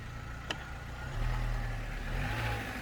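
Vauxhall Corsa C 1.2 Twinport petrol engine idling just after an oil and filter change, a low, steady mid-pitched hum with a slight rise in revs partway through, heard close with no talking.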